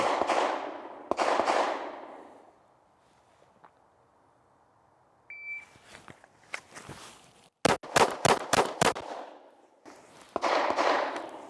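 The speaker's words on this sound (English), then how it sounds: "Draw, fire 5 rounds in 5 seconds." Pistol drawn and fired five times in an FBI qualification drill: five sharp, loud cracks in quick succession mid-clip, with other bursts of shots at the start and end and quiet shuffling between strings.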